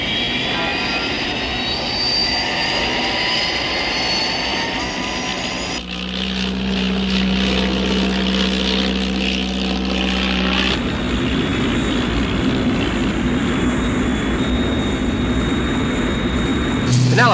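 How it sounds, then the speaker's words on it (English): Jet engines on the Thunderbird 6 aircraft open up, a loud sustained roar with shifting tone across the clip, a steady low hum in the middle section, and voices briefly heard over it. "Penelope and Ellen, in a few moments, I'm going to open up my jet engines"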